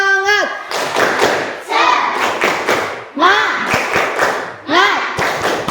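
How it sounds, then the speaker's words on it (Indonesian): A class of children does a rhythmic 'tepuk semangat' clapping chant, shouting sung syllables together in four loud bursts, each punctuated by sharp unison hand claps, close and energetic. "Coba tepuk semangat."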